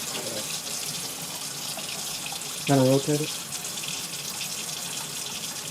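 Tap water running steadily over an air purifier filter being rinsed in a sink, a continuous broadband wash with a brief louder splash midway and a voice speaking briefly over it.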